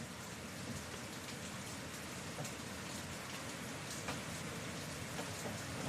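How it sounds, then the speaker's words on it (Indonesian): Steady rain pours down, a dense even hiss of drops on surfaces with occasional louder spatters, continuing without pause. "Seneng ya, lihat hujan gini."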